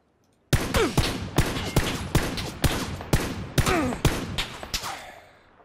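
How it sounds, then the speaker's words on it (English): Rapid gunfire from PUBG Battlegrounds: a loud burst of about a dozen sharp, close shots in quick, slightly uneven rhythm, each with a short echoing tail, ending in fading reverberation. "Put about 3 or 4 shots right up her chest."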